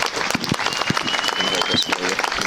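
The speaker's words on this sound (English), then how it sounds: "let's hear a round of applause for Stan Siegel." Crowd applause at an outdoor Veterans Day ceremony, steady clapping from many hands filling the whole stretch, with some voices and crowd noise mixed in.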